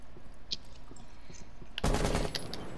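A heavy-recoil gun fires in a video game: a few faint distant shots, then a loud close burst of rapid gunfire near the end.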